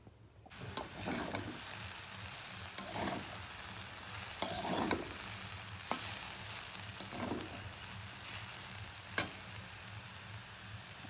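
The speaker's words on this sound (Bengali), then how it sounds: "এখানে আমরা আলু ভাজা করার জন্য কেটে নিয়েছি" Sliced potatoes fry in a pan with a low, steady sizzle, broken by several scraping stirs at irregular intervals; faint and close-up, without speech.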